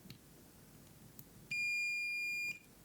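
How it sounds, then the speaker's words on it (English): A Flipper Zero continuity tester gives a single steady electronic beep, like a multimeter, lasting about a second over quiet room hiss. "it beeps just like a multimeter"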